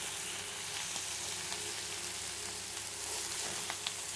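Moringa leaves sautéing in a pan for a finger millet adai, a steady, soft broadband sizzle with faint stirring clicks and scrapes throughout, no voices.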